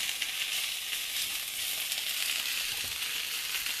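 Whole Foods breakfast sausage sizzling in a pan alongside greens, a dense, steady hiss close up with faint crackles and no voices.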